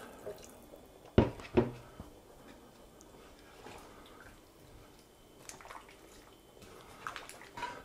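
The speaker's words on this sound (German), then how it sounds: "Das gieße ich jetzt mit Wasser auf, nicht mit Brühe" Water is poured into a stew cooking in a cast-iron Dutch oven: a brief splashing burst near the start, then a steady low liquid wash and faint drips, close and moderately loud, with no talk.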